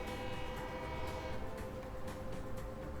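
A train in the video game Train Fever: a steady, dense rumble of rolling rail noise with sustained tonal horn-like bands, continuous and fairly faint, with no voices.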